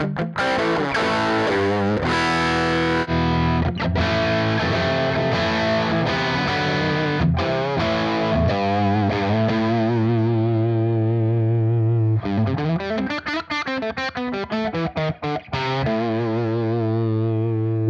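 Electric guitar through a Dumble-style amp simulator with the clean channel at maximum gain, giving a driven, slightly distorted tone: strummed chords and ringing single notes, loud and close, no voices.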